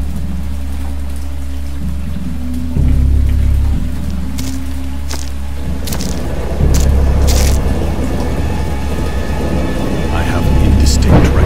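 Thunderstorm ambience in the horror game Dagon, based on H.P. Lovecraft's story: steady rain with deep rolling thunder that swells loudly several times, alone with no talk.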